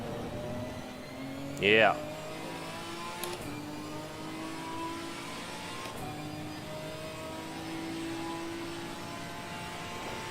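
A Ginetta race car accelerates on cold tires during practice at Imola, its engine note rising steadily through the gears and heard from the cockpit. A driver talks over it, with one brief high whoosh partway through.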